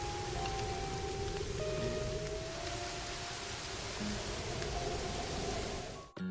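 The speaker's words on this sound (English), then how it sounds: "I'm using the visual effects texture pack, along with the drip sounds mod and the cool rain mod" Steady video game rain, modified with rain and drip sound mods, pours down in a dense, continuous patter, with occasional faint tonal chimes drifting over it before a brief dip at the end.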